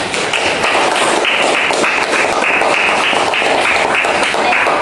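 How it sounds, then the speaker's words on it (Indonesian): A room of participants in a teacher-training class session at UIN Suska Riau gives loud, continuous hand clapping, a dense, even, close patter lasting the whole stretch with no voices on top. "Sekali lagi boleh kita tepuk tangan untuk kita semua."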